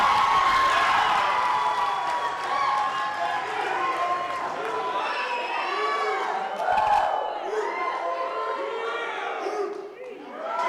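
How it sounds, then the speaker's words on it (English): Wedding reception crowd cheering and whooping for the best man, loud overlapping shouts and excited voices filling the room for several seconds with little distinct clapping. "I would like to hear an equally thunderous round of applause for the best man, Mr. Mike Heim."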